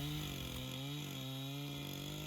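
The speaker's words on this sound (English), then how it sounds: "He got a new chainsaw and he wanted to test it out." A new chainsaw being tested in a front-yard garden drones loud and close, a steady buzzing engine tone holding for a couple of seconds without pause or talk.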